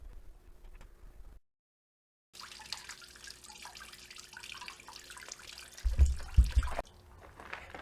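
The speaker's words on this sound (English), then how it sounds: "now we gotta drain that solution out" Coolant drains from the radiator of a Kioti CK25 HST tractor in a faint, steady trickle and splash, broken by a brief silence, then swelling into a louder gurgling pour near the end.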